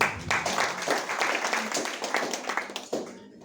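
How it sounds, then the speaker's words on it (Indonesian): Applause from a church congregation during a worship service, a dense patter of clapping for roughly three seconds that thins out and fades near the end, with a voice mixed in. "Kasih tepuk tangan buat Tuhan."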